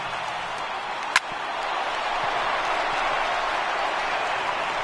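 A stadium crowd of over 39,000 in MLB The Show 18 roars in a broad, steady wash of cheering and clapping as a baseball game nears its final strike, with a single sharp crack early on.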